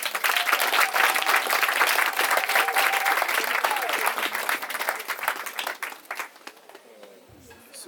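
Guests at a customary wedding ceremony in Gabon break into sustained, dense applause with cheering voices mixed in, loud and steady before thinning out toward the end.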